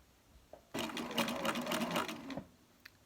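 A Bernina sewing machine stitches a narrow turned hem around a curved shirt edge, one steady burst of rapid needle chatter lasting under two seconds, close and fairly quiet.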